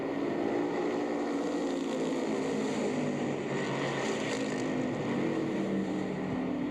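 Race cars roar down the front straightaway running close bumper to bumper, a dense, steady engine drone with no breaks, loud and heard from some distance.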